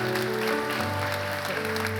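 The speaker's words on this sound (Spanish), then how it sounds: "denle un aplauso a Dios" A church congregation applauds in praise to God, steady clapping from a full room blended with sustained organ or keyboard chords throughout.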